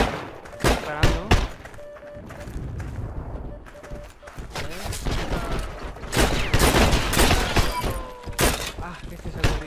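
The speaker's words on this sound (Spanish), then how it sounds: "ya nos están disparando" Gunfire in the Heroes and Generals PC game rings out in sharp bursts and scattered single shots, some rapid volleys, loud and close, with a player speaking between the shots.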